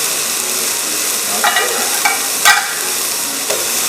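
Roasted breadfruit and seafood sauté in a pan with a steady, loud sizzle, broken by a few brief scraping stirs, and no one speaking.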